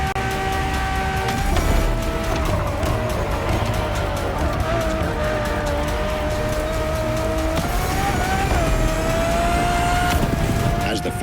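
A Ferrari Enzo supercar engine droning steadily in the racing game The Crew Motorfest, a continuous loud tone holding near-level pitch with a slight shift near the end, while a narrator speaks over it.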